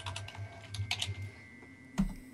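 Quiet keystrokes on a computer keyboard come in a short, irregular burst of soft clicks, then a pause and one last louder tap, with no voices.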